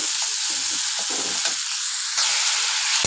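Onions sauté in a pan for mung bean gravy, a steady close sizzling hiss with small crackles and soft stirring scrapes, no talking.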